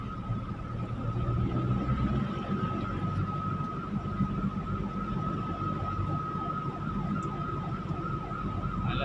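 A wailing ambulance siren sounds continuously over the low rumble of slow, congested road traffic near the Magallanes exit in Makati City, moderately distant.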